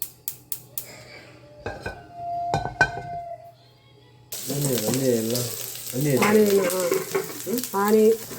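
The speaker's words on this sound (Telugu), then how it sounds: "అన్నీ ఆయిల్ వేసి ఆయిల్ అన్నీ మొత్తం ఇట్లా ఫ్రై చేసుకొని" Onion, green chilli, coriander and curry leaves frying in oil for gunta ponganalu, a steady sizzle with clinks of utensils early on, then someone talks over the continuing frying.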